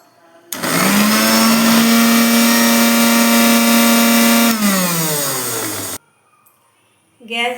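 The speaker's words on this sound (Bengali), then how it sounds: "প্রথমেই আমি মিক্সচার মেশিনে আদা আর রসুন একসাথে সব" A kitchen mixer grinder runs loud and steady while grinding ginger, garlic and green chillies, a high motor whine that holds for about five seconds, drops in pitch as it winds down, then cuts off abruptly.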